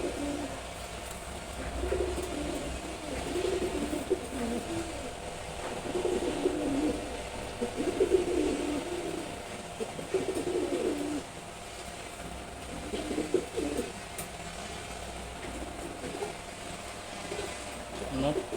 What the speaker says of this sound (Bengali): কিন্তু অনেক রাগী কবুতর।